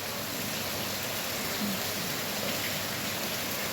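Continuous rain falling outdoors, a steady, even hiss of dense drops with no voices and no change in level.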